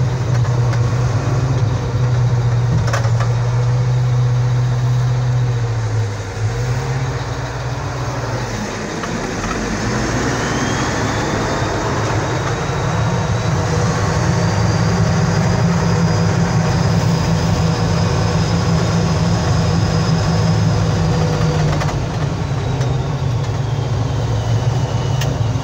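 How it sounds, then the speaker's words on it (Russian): A Kirovets K-700 tractor engine runs during a break-in test drive, a loud, close diesel rumble that dips briefly as it changes load, then settles back into a steady heavy drone with a rising whine. "Поехали обкатывать трактор."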